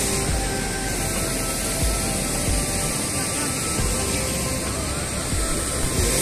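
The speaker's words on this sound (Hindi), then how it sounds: "और यहाँ पे झरना है बहुत अच्छा है।" A waterfall at a fish temple area in Machyal, Himachal Pradesh, roars as a steady broadband rush that fills the whole stretch without pause.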